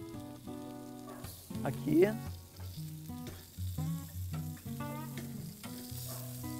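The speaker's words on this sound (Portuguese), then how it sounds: "tô só selando para segurar o suco" Beef sirloin cap sears in a hot pan with a steady sizzle. The sizzle plays under background music, and a voice speaks briefly.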